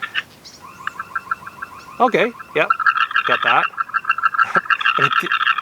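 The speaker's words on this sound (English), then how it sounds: "if you activate the alarm feature, the camera will emit alarm sounds" Netvue Birdfy bird feeder camera sounding its alarm, a series of loud electronic warbling and sweeping tones with repeated chirps, close up, with someone briefly speaking between them.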